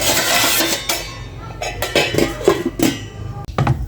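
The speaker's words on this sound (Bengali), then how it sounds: "এখন আমি একটা ঢাকনা চাপা দিয়ে ঢেকে রাখছি" A lid is set over a bowl of jackfruit pancake batter, giving a few light clinks and knocks of metal or glass against the rim, close by with no voices.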